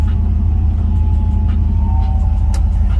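A 1970 Ford F100 short-bed pickup with a 460 big-block V8 cruising in traffic, a loud, steady low engine rumble with a throbbing exhaust pulse heard from inside the cab, continuous and without talk.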